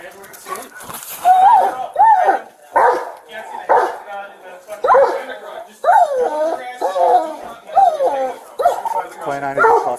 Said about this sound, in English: Dog's coming.